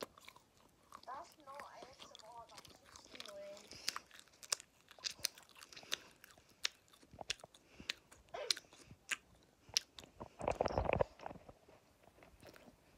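Crème Egg minis being chewed up close, with irregular crunchy bites and wet mastication sounds throughout and a louder, denser burst of crunching near the end; some voice sounds occur amid the chewing.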